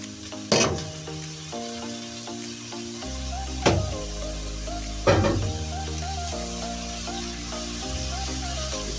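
Bathua greens added to a hot pan of spiced oil for a Pakistani home-style dish, a few sharp sizzling bursts that flare and then settle into a steady low frying hiss.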